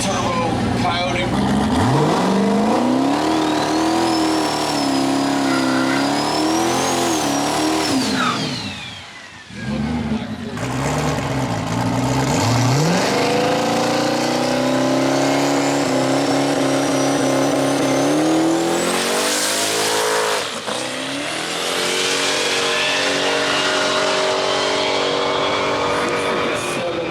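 A twin-turbo Coyote-powered race car accelerates hard down a drag strip at a summer small-tire event, its engine climbing loudly through sweeping pitch rises with a brief gear-change dip midway, as people talk over it.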